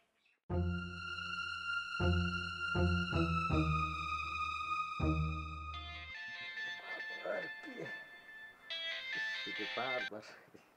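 A mobile phone ringtone plays a loud, stepped electronic melody of repeated tones for several seconds before stopping, after which people talk.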